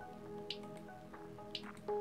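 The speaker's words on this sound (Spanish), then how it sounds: "Puedo tomar un poco de agua." Drinking water in the Roblox game Daycare 2: two short bright drip-like gulps about a second apart, then a sustained tone, over a steady quiet game background with no talking.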